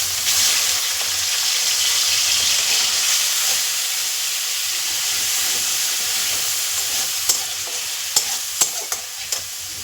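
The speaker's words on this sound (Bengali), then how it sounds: "ওই তেলে ম্যারিনেট করা চিংড়ি মাছটা দিয়ে দেবো" Marinated prawns frying in hot oil, a bright steady hiss and sizzle close by with a few sharp spatters and stirring clicks near the end.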